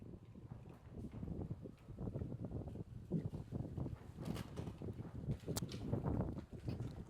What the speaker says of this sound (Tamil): எல்லாம் பறந்து ஓடுதுக்கண்ணா காற்றுல